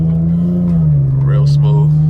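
A rear-wheel-drive Infiniti G37 pulls hard from a green light, its engine note loud, close and steadily droning with a sustained low tone under a voice talking over it.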